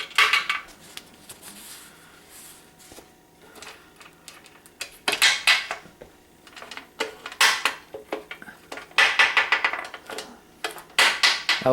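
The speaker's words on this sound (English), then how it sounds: "so we're going to take our lid off" Lid coming off a pressure canner of home-canned bone broth: metallic clanks, scrapes and rattles of the lid and fittings, loud and close in irregular bursts, with no speech.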